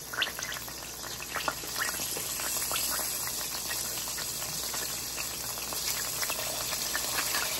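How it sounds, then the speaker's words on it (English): Steady, dense sizzling and crackling of a pork chop frying in a hot cast iron grill pan, with scattered pops over a constant hiss, close by. "my pan is sizzling"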